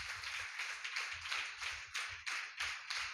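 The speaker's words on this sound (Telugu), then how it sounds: "ఒకసారి చప్పట్లు కూడా దేవుని మహిమపరచుదాం." A church congregation claps together during Sunday worship at a prayer hall, a steady rhythmic unison clapping of many hands that sounds moderately distant and continues without talk.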